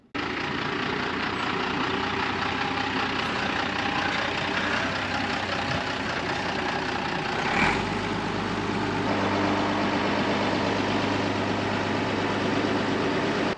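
A 4x4 truck camper, nearly four meters tall, grinds in low reduction gear with differential lock down a narrow, steep canyon track: a steady, close engine drone with road rumble throughout.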